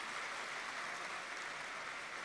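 A large audience at a spiritual gathering applauds steadily, a dense even wash of clapping that holds throughout, with no voices on top.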